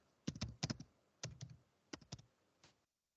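Keys clack on a computer keyboard in short close bursts of several strokes with small pauses between them, then stop.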